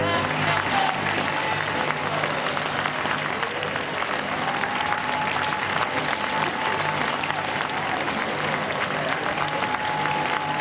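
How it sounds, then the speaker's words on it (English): A large audience gives a standing ovation after a Labour Party leadership result speech, loud continuous applause with crowd noise sustained at a steady level throughout. "He's getting a standing ovation."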